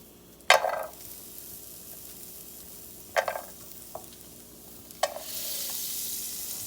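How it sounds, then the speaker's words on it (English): Whole garlic chunks sizzle in melted butter in a pan over low to medium heat, a soft steady fry punctuated by three sharp stirring scrapes and clinks. "Throw my butter up in there. And I'm gonna throw my whole chunks of garlic in there."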